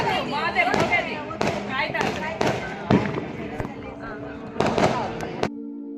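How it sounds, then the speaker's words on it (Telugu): Firecrackers burst around a house during New Year celebrations, giving a string of sharp pops and thuds at irregular intervals, some close and some farther off, under constant family chatter. "ఇంటి చుట్టూ కూడా మంచిగా క్రాకర్స్ కాలుస్తున్నారు"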